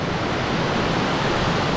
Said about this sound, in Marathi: धबधबे वगैरे होताना एवढा आवाज येताना